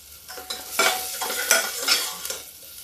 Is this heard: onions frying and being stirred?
yes